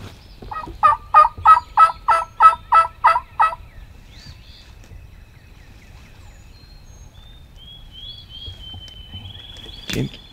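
Wild turkey hens in the Tennessee spring woods call in a quick run of about eight loud, evenly spaced gobbling yelps, followed by quiet background with faint distant birdsong and a brief rustle at the end.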